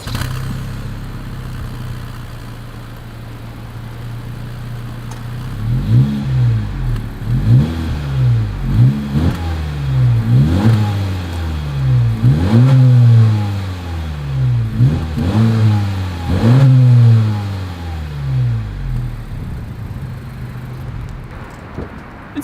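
A 2021 Honda Civic Hatchback in sport trim idles, then its exhaust blips through a run of about eight sharp revs that rise and fall back quickly before settling to idle again, close and loud with no talking.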